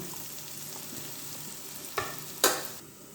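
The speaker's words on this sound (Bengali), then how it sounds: "আমি চাই করলাটা একটু মশমশা করে ভাজতাম" Bitter gourd (karela) frying in a pan, a soft steady sizzle with a couple of sharper stirring scrapes near the end, close and fairly quiet, no voices.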